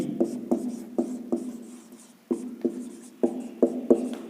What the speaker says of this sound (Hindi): हम लिखते हैं यहाँ पर